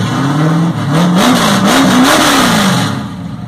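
A 1977 Ford F100 with a big block V8 revs hard with its electric exhaust cutouts open, a loud, close, rising and falling engine roar that holds steady for several seconds before easing off.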